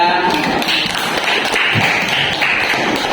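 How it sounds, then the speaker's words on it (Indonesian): Classroom of students clapping for a group that just presented, a dense burst of overlapping hand claps filling the room at close range and holding steady throughout. "Tepuk tangan untuk kelompok 3."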